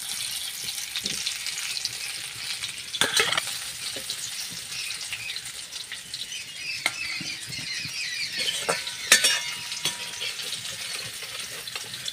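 Potatoes fry in hot oil with a constant, moderately loud hiss and sizzle, broken by a few sharp crackles and pops from the pan.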